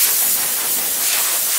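An air compressor nozzle blasts dust from a car's surface before spray painting, giving a loud continuous rushing hiss right up close with no voices.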